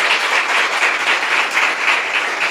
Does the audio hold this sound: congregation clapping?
yes